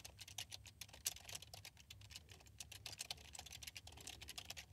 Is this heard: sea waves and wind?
no